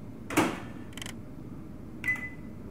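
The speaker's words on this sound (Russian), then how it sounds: "Ты насколько, блин, поставила греться микроволновку?" Microwave reheating soup in a hotel kitchen in The Suicide of Rachel Foster video game: two short clicks as it is set, then a single electronic beep over a quiet hum.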